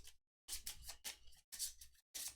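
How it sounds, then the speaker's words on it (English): Hero Realms playing cards being shuffled on a table, a series of five crisp riffling bursts separated by short pauses, close and fairly quiet, with no talking. "Then I'll shuffle and draw 1."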